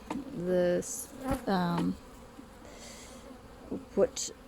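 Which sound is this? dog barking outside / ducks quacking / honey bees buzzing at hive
honey bees buzzing at hive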